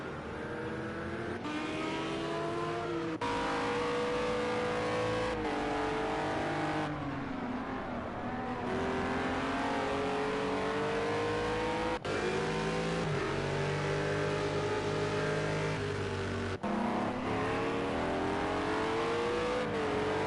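GT3 race cars lapping Circuit of the Americas in a racing video game, several engines droning and revving together in a continuous dense roar, pitch rising and falling through gear changes with brief shift cuts.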